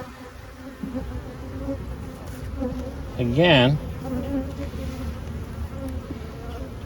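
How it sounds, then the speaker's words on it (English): Honeybees buzzing around an open hive, a steady low hum with one bee passing close and loud midway, a brief word spoken at the start. "The bees that are buzzing about me now are still from that first Atlantis hive"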